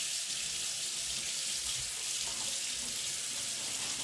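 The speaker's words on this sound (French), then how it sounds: "Alors d'abord, on va le passer sous le robinet." Tap water runs steadily from a kitchen faucet over tomato seeds being rinsed, a close, constant splashing hiss with no talk.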